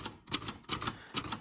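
Keys striking on a used manual typewriter, four quick bursts of sharp mechanical clacks in an uneven rhythm, close and clear with no talking.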